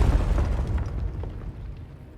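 An obelisk blown apart in the video game Pathfinder: Wrath of the Righteous, a deep rumbling explosion that booms loudly at once and then slowly rolls off over two seconds.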